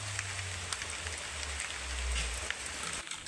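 Light drizzle patters outdoors as a soft, continuous hiss with scattered faint drop ticks and a low rumble underneath, no voices present.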